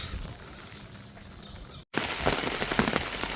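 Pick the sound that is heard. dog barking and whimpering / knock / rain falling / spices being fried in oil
rain falling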